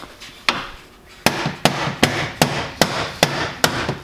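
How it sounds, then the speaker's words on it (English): Sharp metallic taps from a body hammer on a Jeep Wrangler YJ, one then a pause, followed by a steady run of evenly spaced strikes, close and crisp. "Kind of tap that thing into place."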